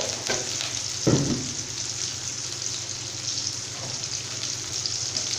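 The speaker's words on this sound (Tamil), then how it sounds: "ஃப்ரெஷ் கருவேப்பிலை ஒரு கொத்து ஆட் பண்ணிக்கிறேன்." A bunch of fresh curry leaves frying in hot oil with onion and whole chillies for horse gram kadayal, a continuous hissing sizzle with a quick crackling burst early on, steady and close.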